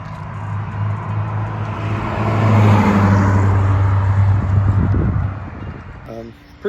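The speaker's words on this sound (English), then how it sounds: "So we are gonna go ahead and take it around the block and see how cool it runs." A 1988 Ford Thunderbird drives around the block with a fresh thermostat installed, its engine a steady close drone that swells in the middle and fades toward the end, while a person talks over it.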